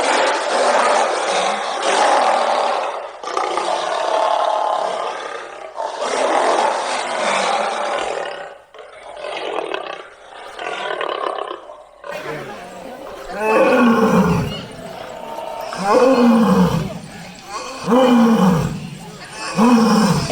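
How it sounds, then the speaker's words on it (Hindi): Asiatic lion at Sakkarbaug Zoo in Junagadh roaring repeatedly, a series of loud deep rhythmic grunting roars building in intensity, preceded by other loud animal calls, heard fairly close with no talk over them. "ये शेर की दहाड़ तो पहली बार सुनी"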